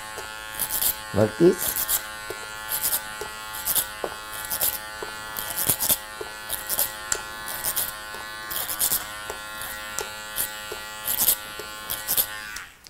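Electric hair clippers buzz in short repeated bursts while cutting hair over a comb, the motor whine steady underneath, with a voice speaking briefly near the start.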